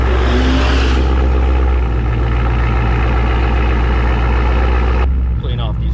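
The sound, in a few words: supercharged Whipple Ford F150 truck launching in a drag race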